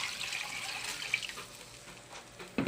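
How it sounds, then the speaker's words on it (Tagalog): A bowl of water tips into a cooking pot for fish sinigang, a brief splashing pour that thins out, ending with a sharp knock of the pot or bowl. "Lagyan na natin siya guys ng tubig, isang mangkok."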